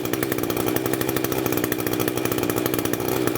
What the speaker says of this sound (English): as it started to run too lean, it just died. It started to rev a bit